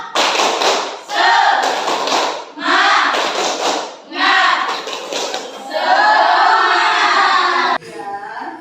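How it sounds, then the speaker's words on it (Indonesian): A classroom of students chant together loudly in bursts while doing a rhythmic spirit clap, with dull thumps of clapping under the voices. "Tepuk semangat."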